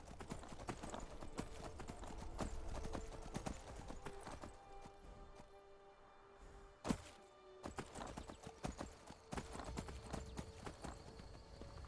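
Rhythmic horse hoofbeats in Skyrim clip-clop steadily at a walking pace, moderately close, with a soft musical background and one sharp thud midway.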